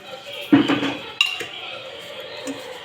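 Greasy steel utensils being scrubbed with soap clatter and clink together in a couple of sharp knocks, followed by softer rubbing, close by, with a voice talking over it.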